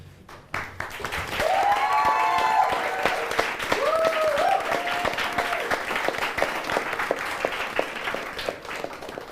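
A crowd breaks into sustained applause after a brief pause, steady clapping from many hands with a couple of voices calling out over it.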